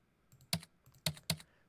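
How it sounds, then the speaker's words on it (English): Three crisp computer keyboard keystrokes tap out in quick, uneven succession, close and clean with no voices, used as a typing sound effect. "kind of sounds like someone's typing"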